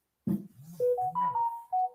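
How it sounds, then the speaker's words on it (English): A mobile phone ringtone plays alone, a short melodic run of clear electronic tones stepping upward in pitch, close and fairly loud, with no talk over it. "My son is ringing me."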